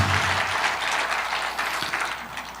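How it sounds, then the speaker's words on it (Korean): Dense, steady audience applause fills a political rally crowd at a national assembly event, sustained and fairly loud throughout with no voices over it. "박수 한번 쳐주시기 바랍니다"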